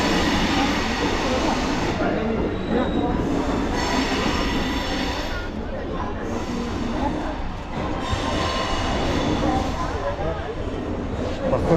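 Inside an Indian passenger train carriage, a steady loud rumble of wheels and rattling runs nonstop, with brief squeals and voices of people talking over the din.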